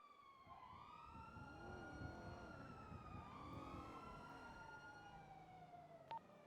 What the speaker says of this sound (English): Why am I hearing sirens?